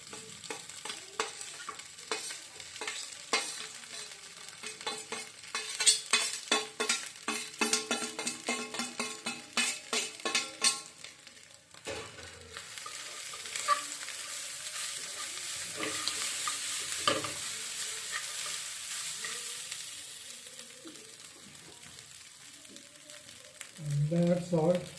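Egg fried rice is tossed and stirred in a hot pan over a high flame, with quick scraping clatter at first and then a steady, close sizzle of frying that runs throughout.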